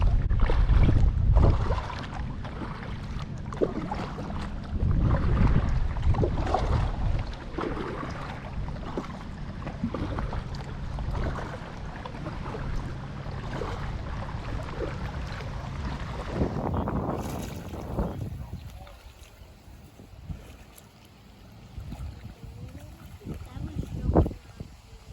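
Lake water and wind from an inflatable Freein Explorer tandem kayak, with steady wind buffeting the microphone and soft splashes and knocks close by, quieter and calmer toward the end.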